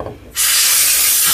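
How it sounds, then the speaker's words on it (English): Compressed air sprayed into the fan of an HP ProBook 4530s laptop: one loud, close, steady hiss lasting about a second, starting and stopping abruptly, with no talk. "spray a little air into the end"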